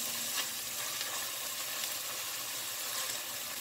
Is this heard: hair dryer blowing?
no